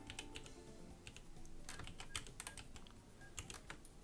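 Computer keyboard typing during a live OpenTTD game session, a steady run of quiet, close key clicks with irregular rhythm, with no talking heard.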